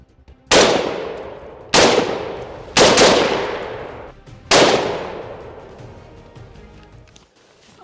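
An HK MR762A1 rifle with an EoTech VUDU 1-6x scope on a LaRue SPR mount fires four loud, close shots about a second apart while the scope is sighted in, each with a long fading echo.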